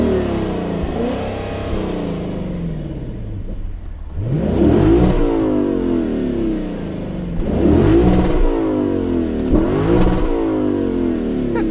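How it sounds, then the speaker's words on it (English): A Lexus LC 500 V8 engine is revved hard in three sharp bursts, each climbing and then falling away, with a lower steady engine drone between them. The revs are loud and close and carry no talk. "Just listen to that V8."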